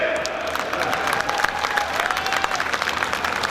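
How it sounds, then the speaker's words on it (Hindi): An audience at a Hindi comedy poetry gathering in Behror bursts into sustained, dense applause, with claps crackling steadily at close range and faint cheering mixed in. "और अगली लाइन पर आपकी तालियां मस्त देखना चाहता हूं"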